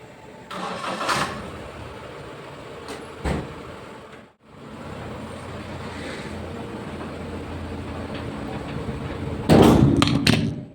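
A Flipkart delivery truck in Cuttack, Odisha, starts up and runs while parking at a loading dock. The engine hums steadily, a couple of thuds come early, and a louder revving burst rises near the end, with no voices.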